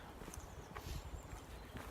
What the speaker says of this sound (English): there's people coming on horses